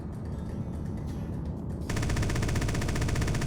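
Missile and weapon fire in a flight combat video game, a rapid stream of loud close bursts that thickens into a denser, harsher rattle partway through, with no talk.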